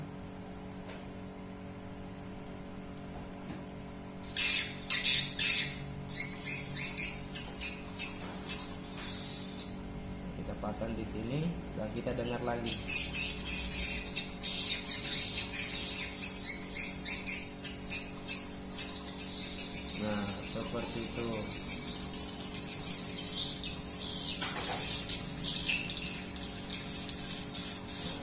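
Recorded bird mating calls play back during audio editing: bursts of high, rapid chirping trills over a steady low hum, while someone briefly speaks in Indonesian.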